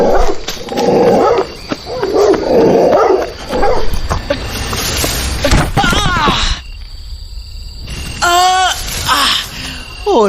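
Wild dogs bark, yelp and whine in a horror audio drama. The bursts are loud and close, with high-pitched yips standing out near the end and a dense, busy mix of effects and possible voices beneath.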